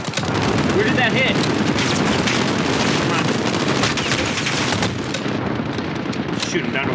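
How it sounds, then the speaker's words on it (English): Dense, continuous gunfire and explosive blasts from a grenade launcher and other weapons in the Call of Duty Modern Warfare campaign mission Hunting Party, loud and sustained for several seconds with a slight drop near the end. "let's get the grenade launcher out"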